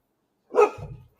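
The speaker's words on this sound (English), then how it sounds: "Don't you bark at me." A dog gives one short, sharp bark followed by a brief lower growl-like tail. It is fairly close and heard on its own, with no talking.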